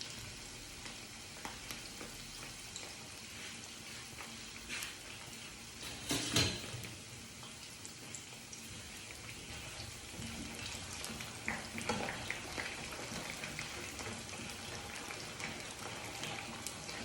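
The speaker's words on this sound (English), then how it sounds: "So allow it to fry for 7 minutes." Vegetables and yam frying in a pan over reduced gas, a quiet, steady sizzle with light crackles and a brief louder clatter partway through, no voices.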